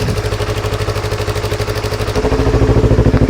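A Yamaha R25 motorcycle engine idles with its exhaust outlet blocked, a steady, rapid rhythmic putter, muffled and throaty, rising slightly in loudness toward the end. No voices.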